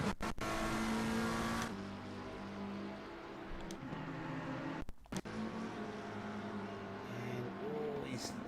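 Race cars on the Monza circuit in a PS5 racing game roar steadily with engine drone, one car fading as another whooshes past, with brief sharp cuts.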